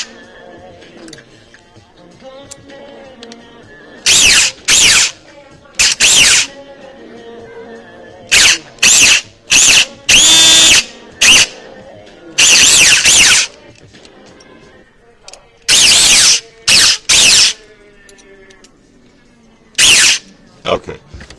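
Echo1 Troy airsoft gearbox with a 16:1 speed gear, test-fired with no selector plate: sharp loud bursts of rapid whirring cycling, some short and some longer, separated by quiet pauses.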